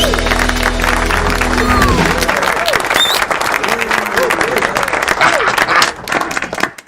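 A studio audience for a Tenerife talk show claps and cheers in a loud, dense burst, with voices talking over the applause as it continues and tapers off.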